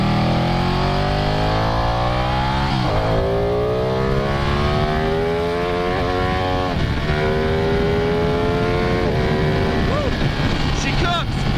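A 2015 Ducati Panigale 899 engine pulling hard through the gears on a ride, loud rising revs broken by quick shifts, with wind rush and a voice talking over it.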